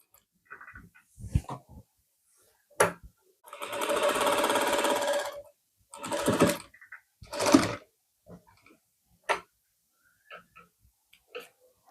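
A sewing machine stitches a band collar on a lined suit in short separate bursts: a long steady run in the middle, then several briefer runs with quiet pauses between them, close and clear.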